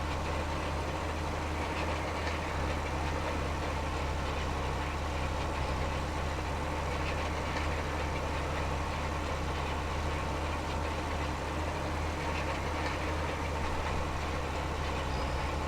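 Leyland tractor engine idling in Farming Simulator 25, a steady low diesel rumble with a constant hum that holds evenly throughout, with no talk over it.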